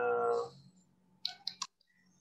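Light keyboard typing on a computer, a brief cluster of three or four quick, close key clicks following a short bit of speech, then quiet.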